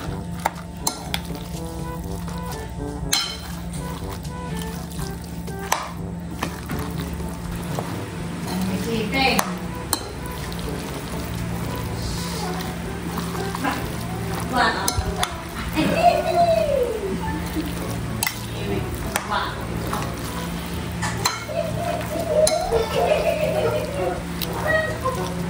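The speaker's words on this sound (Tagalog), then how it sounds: "2 itlog po yung aking ilalagay. At akin na po ngayong hahaluin." Two eggs are stirred into lumpiang shanghai filling in a bowl, giving soft repeated scraping and clinking of a utensil, with someone talking over it throughout.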